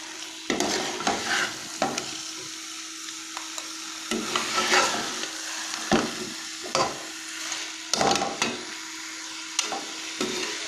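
A spoon stirs fish and masala in a frying pan over steady sizzling, with repeated scraping knocks against the pan at an irregular rhythm, close and clear with no talk.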